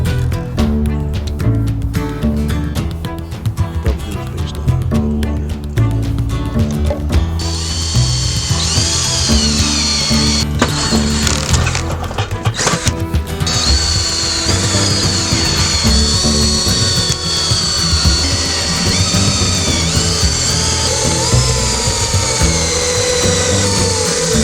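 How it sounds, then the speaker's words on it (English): A power drill bores holes through metal sheets, whining in repeated bursts with clattering and grinding between them, loud and close, followed by longer stretches of high-pitched drilling. "drill a couple holes in each sheet just so rainwater can pass through"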